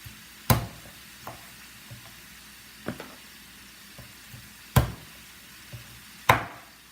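Chicken pieces for Jamaican curry chicken are chopped on a board, giving several scattered, sharp knife thuds at irregular intervals, some louder and closer than others, over a faint hiss of quiet kitchen background.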